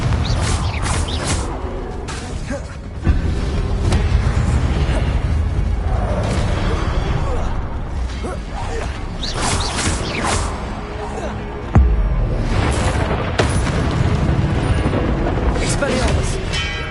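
Confringo explosion spells blasting in a wizard video game, deep booms landing twice over rumbling, crackling effects, with voices present throughout.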